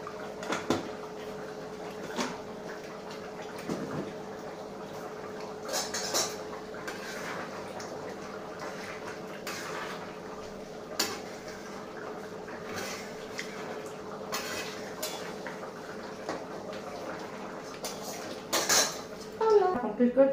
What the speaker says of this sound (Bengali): বাসন অর্ধেক মাজা হয়ে গেছে, কুকার টুকার আর অর্ধেক বাকি আছে।